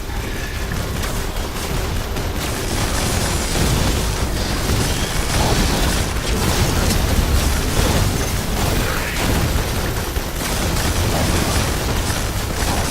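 Artillery fire mission in the video game LiveLock, a dense, continuous roar of overlapping blasts and rumbling explosions that stays loud for the whole stretch.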